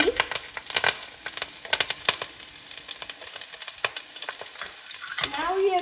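Onions, pepper and cut beef fry in a pan with a steady sizzle, punctuated by crisp stirring scrapes and clatters of a utensil against the metal.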